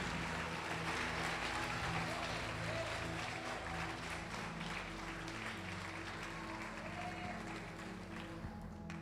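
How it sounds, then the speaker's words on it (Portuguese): A church congregation applauds at a service, a continuous, fairly faint wash of many hands clapping over a steady low hum, tapering slightly toward the end. "Pode aplaudir o Senhor Jesus e glorificar."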